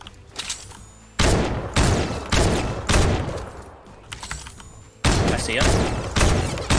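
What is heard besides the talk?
gunfire in the video game Fortnite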